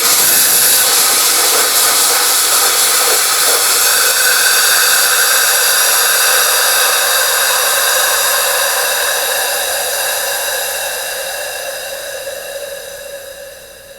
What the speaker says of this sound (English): You keep going until you don't hear any more material being released through the gun itself.